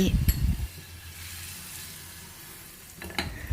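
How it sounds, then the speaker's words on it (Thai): Butter and brown sugar sizzle in a frying pan for French toast, with sharp scraping stirs at the start and end around a quieter steady frying hiss. "ต่อไปมาตั้งกระทะเตรียมย่างได้เลยค่ะ ใส่เนยและน้ำตาลทรายแดงที่เราผสมไว้"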